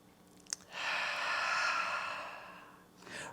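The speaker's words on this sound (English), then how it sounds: "Let's take 1 full inhale and a full exhale." A long, steady breath of air, likely a deep exhale, during a gentle lower-body stretching routine. It sounds as a soft, close breathy rush lasting about two seconds, with no talking.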